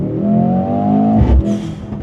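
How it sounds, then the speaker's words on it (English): A 2025 Mercedes-AMG GLC 63S E Performance accelerates hard from a standstill, its engine note climbing steadily in pitch up close and loud, with a brief low thump partway through as the revs keep rising. "When you're not doing race starts and you're just flooring it off the line, for example, let's try right now."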